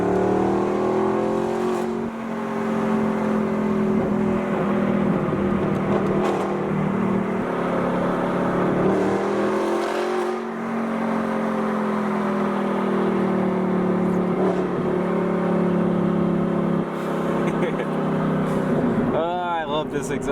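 Audi R8 engine and exhaust, rear-wheel drive, at operating temperature: a steady loud drone with a few revs rising and falling, a brief dip around the middle and a sharp blip near the end.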